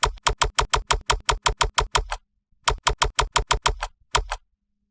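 Rapid left-button mouse clicks in a video game come in fast, evenly spaced runs of a dozen or so sharp clicks, a brief pause, then another run, loud and close with no talking.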